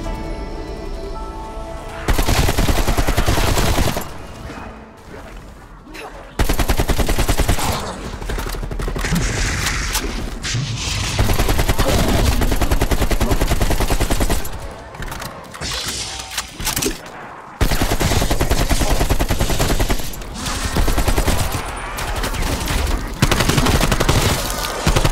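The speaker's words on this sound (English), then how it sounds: "Submachine gun equipped." Loud submachine gun bursts in Black Ops Cold War Zombies, rapid automatic fire in several long strings separated by brief pauses, with mechanical clicks and game effects between them.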